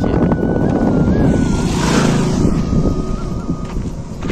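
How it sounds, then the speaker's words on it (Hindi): A motorbike speeds past on a road running over a dam gate on a windy day; its engine swells to a peak mid-clip and fades, nearly buried in heavy, constant wind rumble. "ये देखो भाई बाइक कैसे चलता है सड़क में"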